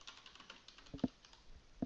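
Quiet, close tapping on a computer keyboard while notes are typed into estimating software, a brief run of light clicks with a few sharper keystrokes.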